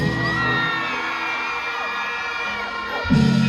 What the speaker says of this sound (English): All my beautiful ladies, can you scream for me, please?